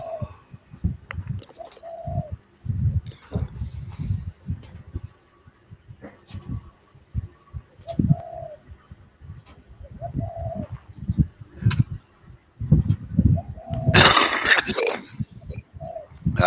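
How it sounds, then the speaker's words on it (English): Pigeon cooing repeatedly in the background, soft rhythmic coos spaced a second or two apart amid scattered thuds and rustles, with a brief louder burst of noise near the end. "There's that horny pigeon in the background again."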